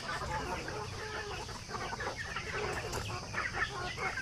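A flock of native chickens being fed clucks and chatters continuously, many birds close by at once, with soft rustling and scratching underneath.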